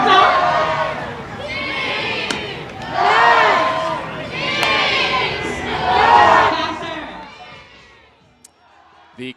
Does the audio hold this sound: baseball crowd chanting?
yes